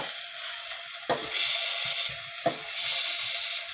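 A ground masala paste sautés in oil for misal pav, with a steady sizzle and frying hiss broken by two sharp stirring scrapes.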